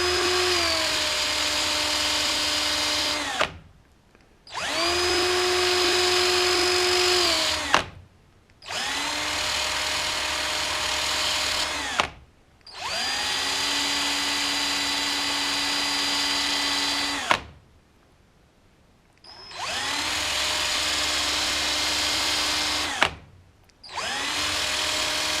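A carburetor part for a KLR650 motorcycle is worked against sandpaper by a spinning power tool: five long, steady high-pitched whining runs, each a few seconds, separated by brief pauses, loud and close with no talking.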